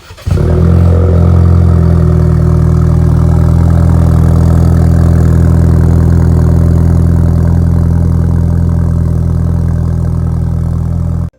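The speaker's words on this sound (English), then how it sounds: "All right, we got the cold start out of the way." A 2021 Ford Bronco with a Corsa performance exhaust cold-starts, catching quickly and settling into a loud, deep, steady idle that drones close by for about ten seconds before cutting off abruptly.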